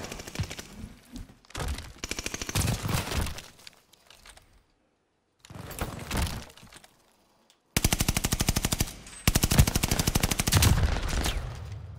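Rapid automatic gunfire from the Call of Duty Vanguard video game comes in loud, dense bursts with brief silent gaps between them.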